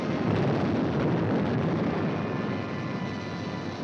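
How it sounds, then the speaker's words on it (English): World War II aircraft strafe retreating German army positions, a dense, loud, continuous roar of engines and explosions that fades slightly toward the end, with no speech. "Now it was for the Germans to learn the terrors of strafing."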